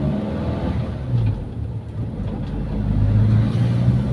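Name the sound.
Toyota Kijang engine revving, carburetor test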